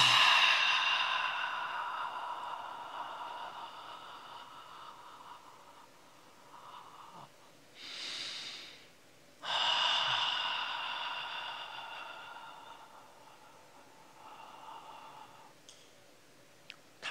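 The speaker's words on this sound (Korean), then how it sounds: "어떤 호흡? 긴 호흡입니다." A man demonstrates slow, deep breathing, with a long, loud, airy exhale that fades away, a brief pause, a hissing inhale, then another long exhale tapering into quiet, close to the microphone with no talk.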